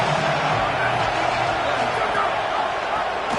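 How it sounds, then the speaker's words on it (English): A large stadium crowd at an Iowa college football game roars as a steady, dense wash of noise, with a commentator talking over it. "This crowd knows this defense needs them right now."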